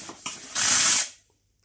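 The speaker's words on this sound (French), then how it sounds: "nous avons de la vapeur qui sort." A Lavor GV Egon 4.1 Plus steam cleaner releasing a burst of steam when its trigger is pressed: a few short puffs, then a strong near hiss lasting about half a second that quickly fades out.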